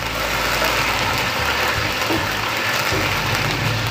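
Chicken fries with garlic in a karahi over high heat, a loud, dense, continuous sizzle that stays even throughout, close up with no talking.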